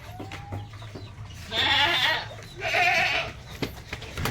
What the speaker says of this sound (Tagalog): At yung ating mga kambing nag-iingay na.